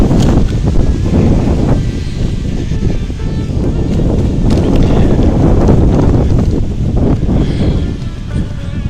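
Strong, continuous wind buffeting a microphone outdoors, a loud, rumbling roar that fills the whole stretch without pause and has no talking.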